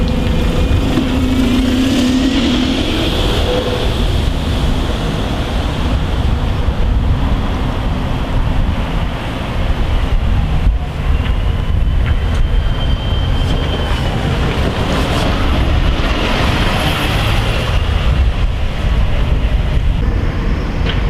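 A bus pulls out of Hanley bus station in Stoke-on-Trent in January, its engine producing a loud, continuous rumble close by, with a brief higher whine early on and no voices.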